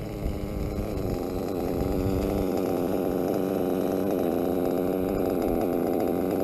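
A small two-stroke engine running rich on heavily oiled fuel idles low and steady, a continuous buzzing putter with no voices.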